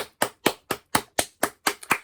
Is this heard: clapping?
yes